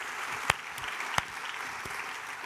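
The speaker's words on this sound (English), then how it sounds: "So one more round of applause to our delegates from yesterday." Audience applause for youth summit delegates at a large conference session: a soft, distant wash of clapping with two louder nearby claps standing out.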